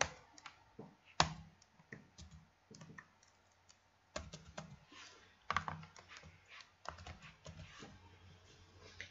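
Fingers typing code on a computer keyboard in Visual Studio, an irregular run of close, crisp key clicks in short bursts with brief pauses, no talking.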